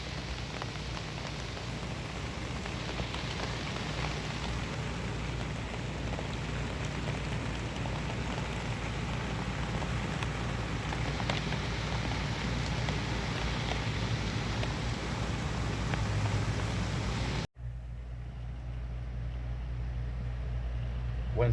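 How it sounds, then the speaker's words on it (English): Steady rain falls on a rainy day in Michigan's Upper Peninsula by the Gladstone lighthouse waterfront, a dense even hiss that holds for most of the clip before cutting to a softer, muffled patter near the end. "Rain's here."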